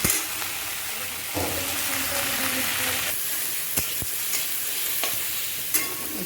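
Tomato with turmeric and salt fries in a pan for dal, giving a constant loud sizzle broken by several sharp spatula knocks and scrapes.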